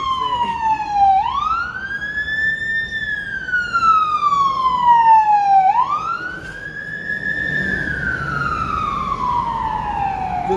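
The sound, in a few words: ambulance siren passing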